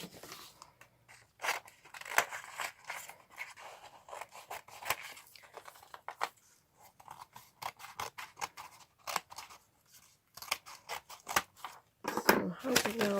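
Scissors cut through a card panel for a floral wreath easel card, giving many sharp close snips and crunchy slices in irregular bursts, with brief pauses between runs of cuts.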